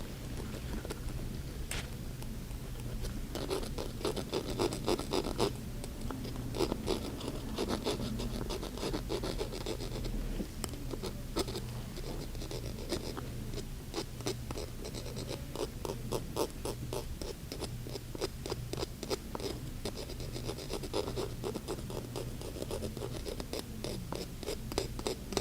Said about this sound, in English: my dental burnisher, which will help remove some of that plaque that's sitting on the surface of your teeth